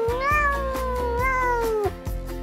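A cat gives a long, loud, drawn-out meow with a falling pitch, close and clear over a steady musical backing, with no speech.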